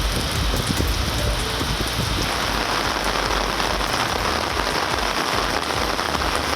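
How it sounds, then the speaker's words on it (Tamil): Heavy early-morning rain pours down in Chennai, a dense, constant hiss and patter of drops on hard surfaces that stays loud and steady throughout, with no voices. "கிண்டி, ஈக்காட்டுத்தாங்கல் உள்ளிட்ட பகுதிகளில் அதிகாலை 3 மணிக்கு மேல் திடீரென கனமழை கொட்டியது."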